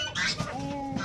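A chicken clucks and squawks close by, a short run of rough, throaty calls over faint background noise.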